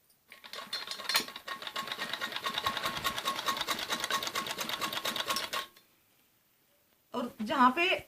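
Sewing machine stitching beside the piping on a kameez back neck, running for about five seconds as a fast steady rattle of needle strokes, then stopping, followed by a short burst of handling noise.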